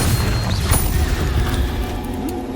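A Confringo fire-blast spell explodes in the video game Hogwarts Legacy, a loud, dense boom with crackling burst energy that rolls on for the whole moment amid game noise.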